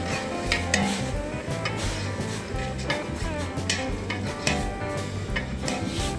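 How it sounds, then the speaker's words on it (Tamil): Sliced onions with chili powder frying in a pan for restaurant-style mutton kuska, a steady dense sizzle under repeated scraping and clanking of a spoon against the metal, close and fairly loud throughout. "நல்லா கோல்டன் ப்ரௌன் வர்ற வரைக்கும் ஃப்ரை பண்ணலாம் வெங்காயத்தை"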